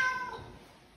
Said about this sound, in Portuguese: Ela tá miando direto.